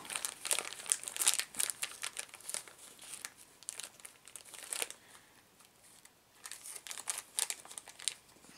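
Plastic packaging from a car kit's parts crinkling and rustling as it is unwrapped by hand, close-up bursts of crackly crumpling that come in waves with a quieter lull in the middle.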